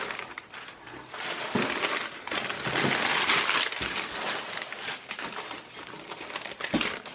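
Paper crinkles and rustles loudly up close as it is slid off an ASCII keyboard, a steady crumpling noise with a few sharper crackles over about seven seconds and no talking.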